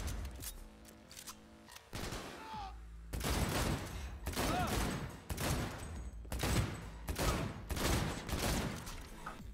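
Gunfire in the video game Cyberpunk 2077 comes as rapid, loud repeated bursts of shots filling most of the clip, with brief pauses between volleys and a short quieter stretch at the start.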